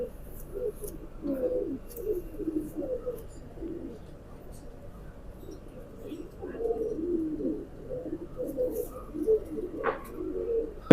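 Pigeons cooing softly in a loft, a bonded breeding pair among the birds, low rolling coos repeating in bursts over faint background noise, with a brief sharper chirp near the end.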